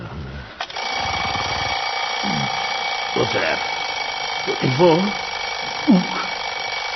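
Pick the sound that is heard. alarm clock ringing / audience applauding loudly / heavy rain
alarm clock ringing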